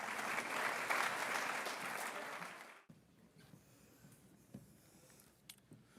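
Audience applause fills a high school academic awards ceremony, a broad steady clapping that cuts off abruptly partway through, leaving quiet room noise with small scattered sounds.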